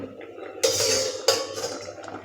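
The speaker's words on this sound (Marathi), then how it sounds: "आता याच्यावरचं झाकण काढूया" A metal lid lifted off a pot of cooked sweet corn makes two sharp clanks about half a second apart, each followed by a ringing clatter, all close and without talk.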